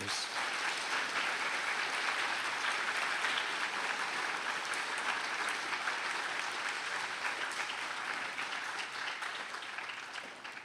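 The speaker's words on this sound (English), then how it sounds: "another round of applause, please, for our speakers" A school assembly crowd applauds its speakers with dense, continuous clapping that stays steady before slowly tapering off toward the end.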